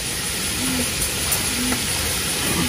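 Chicken stir-fried in a pan over a home cooking fire gives a soft, steady sizzle and hiss, with faint scraping and stirring taps throughout.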